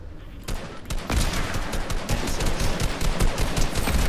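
Rapid automatic gunfire in the video game Fortnite, a dense, loud stream of shots rattling continuously for several seconds with no talk.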